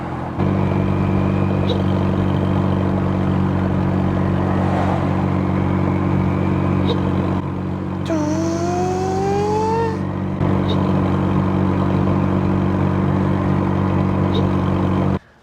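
A Toyota street truck's engine runs at a steady idle with a deep continuous drone, close and loud, while a weird front-end noise is suspected from the EGR valve; a brief rising whine sweeps through midway.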